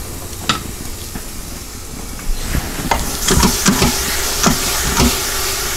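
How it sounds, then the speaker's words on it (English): Diced onion sizzling as it browns in an Instant Pot, a steady close hiss broken by scattered clicks and scraping stirs that grow busier halfway through, with no voices. "Got some sizzle going there."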